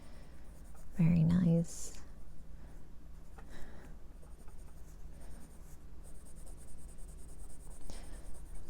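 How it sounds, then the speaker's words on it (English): A white Prismacolor pencil scratches softly across paper while coloring, a faint, steady rasp of short strokes close by, with a quiet spoken remark near the start. "I just pretty much colored it in with the white Prisma"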